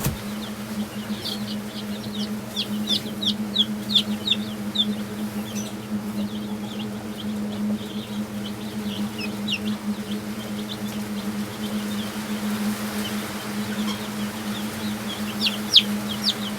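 Chickens cluck and call repeatedly over a steady low hum, several birds close by with scattered short calls throughout.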